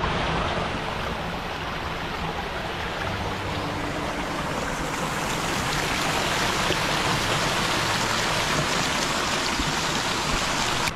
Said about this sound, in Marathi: धबधब्याचा आवाज वाजून जेणेकरून काय भारी वाटतं ना